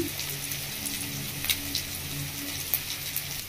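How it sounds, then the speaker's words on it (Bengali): Onions frying in oil in a pan, a steady soft hiss and sizzle with faint crackles scattered through, continuous and fairly close, with no talk. "পেঁয়াজটা খুব ভালো করে ভেজে নেবো একটু"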